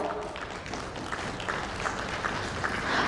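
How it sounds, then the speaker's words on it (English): An audience at an insurance industry summit and awards event applauds as a panel speaker is welcomed on stage, a fairly faint, sustained clapping from a crowd. "Please welcome with a huge applause."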